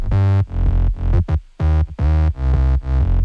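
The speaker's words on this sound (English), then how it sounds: "I have a sub bass down here with a couple pitch bends." A sub bass synth in FL Studio plays short, loud, sustained low notes with a couple of quick downward pitch bends near the middle. The notes have a brief gap between them and play alone, with no talking.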